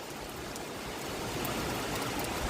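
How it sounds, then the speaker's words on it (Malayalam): Steady, dense hiss of heavy rain pouring continuously, loud and even throughout with no pauses or voices. "എന്തൊരു മഴയാന്ന് നോക്കിയേ, മഞ്ഞ് പെയ്യുന്ന പോലെയാണ് മഴ"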